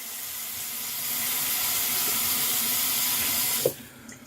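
A bathroom tap runs steadily as a face is rinsed after a double-edge razor shave. The close, even rush of water fills the room, then a brief clunk sounds and the flow fades to a quieter trickle.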